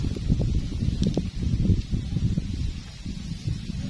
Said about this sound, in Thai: เห็นลมพัดไหม